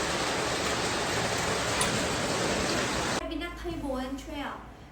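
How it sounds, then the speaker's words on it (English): Heavy rain pours down in a village setting, a dense steady hiss that suddenly softens near the end, where a voice comes in over the quieter background. "Wee bit of rain. It sounds like the entire sky is falling."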